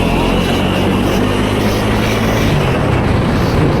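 A Bajaj Pulsar NS400 motorcycle accelerates in second gear with a loud, continuous engine roar, heard close and steady as it rises, mixed with heavy wind rush.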